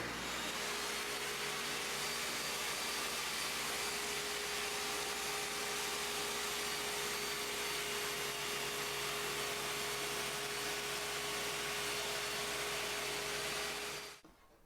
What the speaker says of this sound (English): Did an alright job cutting through this plywood.